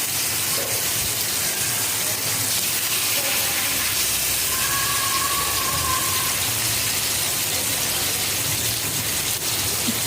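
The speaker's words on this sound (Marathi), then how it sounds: "इथे छान आपले पापलेट फ्राय होत आहेत" Steady, dense sizzling and hiss of pomfret fish frying in oil on a hot griddle, continuous throughout with no talking.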